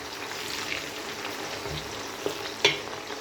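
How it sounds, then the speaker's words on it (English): Continuous crackling sizzle of tomatoes frying in hot oil, close up, with occasional spatters and a brief louder clink near the end. "you know I'm frying a lot of tomatoes"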